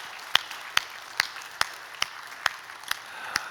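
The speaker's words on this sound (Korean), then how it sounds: "하나님께 영광의 박수, 귀한 사역자들에게 감사의 박수 한번 보내드립시다." Applause from a church congregation during a Sunday service: a slow, even series of about eight distinct claps spaced roughly half a second apart, clear over a quiet background.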